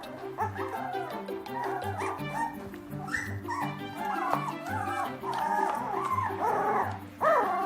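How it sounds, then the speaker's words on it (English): Two-week-old Doberman puppies from a litter of twelve whimper and yip in high, thin cries while nursing on their mother, with soft rhythmic snuffling and suckling underneath, close and continuous. "And Mom Anya is hard at work keeping them all fed."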